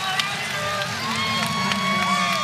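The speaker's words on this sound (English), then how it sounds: "You hear that cheer?" Basketball fans cheer inside an arena during a college men's game, a steady crowd roar with whistles and shouts, no commentary over it.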